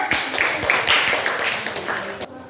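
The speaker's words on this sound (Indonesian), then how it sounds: "tepuk tangan dulu" A classroom of seventh-grade students claps their hands together in a dense, fairly loud burst of overlapping claps lasting a couple of seconds, then cuts off abruptly.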